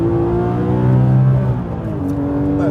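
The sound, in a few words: Porsche 911 GT3 RS 4.0 driving on Silverstone circuit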